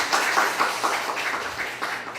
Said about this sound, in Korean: 예배를 섬기시는 분들을 위해서 우리 격려의 박수 드리겠습니다.